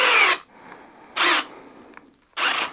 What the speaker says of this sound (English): The DeWalt cutting out a lot sooner.